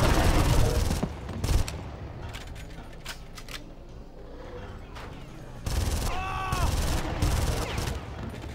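Gunfire in Far Cry: dense rattling volleys at the start and again near the end, with scattered single shots in between over ambient game noise.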